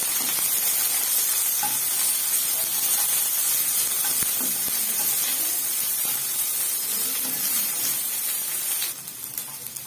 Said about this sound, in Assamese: অলপ ভাজি লওঁ।